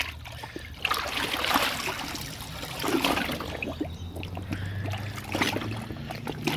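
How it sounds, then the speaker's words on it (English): Deer skin being rinsed in water, with soft sloshing, trickling and splashing in irregular bursts close by and no talk. "So just rinse it off in some water, get all the solution off."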